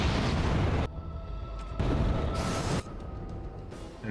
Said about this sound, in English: Okay, explosion noise.